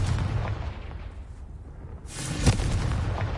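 A Confringo fire spell blasts in Hogwarts Legacy, a rumbling burst that swells near the end with a sharp crack, over steady low game ambience.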